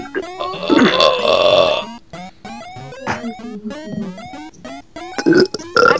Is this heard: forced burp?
yes